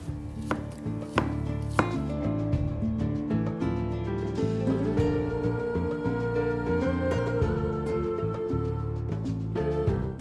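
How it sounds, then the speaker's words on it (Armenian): Red cabbage, chicken breast and coriander are chopped for a salad: a steady run of sharp knife strikes on a board, close and fairly loud, over a continuous tonal musical background. "Փորձենք միասին կտրատել եւ բաղադրիչները խառնել իրար"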